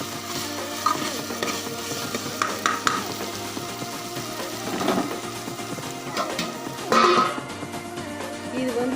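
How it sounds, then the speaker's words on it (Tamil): Vegetables, including broad beans, sauté in a pan for veggie fried rice, giving a continuous sizzle broken by the scrape and clink of a spatula stirring against the metal. "நல்லா கொஞ்சம் காயெல்லாம் வதங்கணும்."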